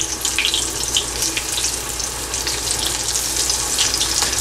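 Marinated brinjal pieces frying in hot oil over a slow flame for brinjal manchurian, giving a steady, close, even sizzle that goes on without pause and with no voices.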